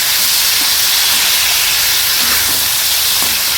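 Water poured into a hot pan of banana, potato and fish curry, a loud, steady broadband hiss of steam filling the whole stretch without pause, close and with no talk.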